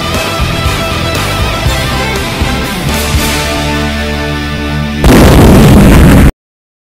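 Loud explosions from an animated trailer burst repeatedly over a dense musical score, building to a final roaring blast before cutting to silence.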